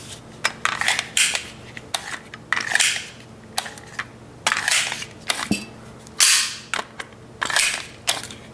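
Repeated sharp metallic clacks and rattles as a magazine is dropped and handled on an HK P30L-style pistol with the slide locked back, a dozen or so crisp impacts at irregular intervals, close and fairly loud with no talk.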